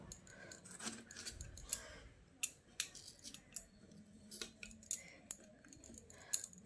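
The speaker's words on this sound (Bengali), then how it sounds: "এবার আমি একটা টমেটো কেটে নেব।" A knife slices a tomato on a kitchen surface in a home cooking session, giving sparse, crisp cutting clicks and taps spaced irregularly, quiet and close with little else around them.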